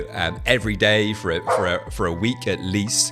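A pet dog barks and yips in short, repeated bursts behind someone speaking steadily indoors, the barks mixed in beneath his voice.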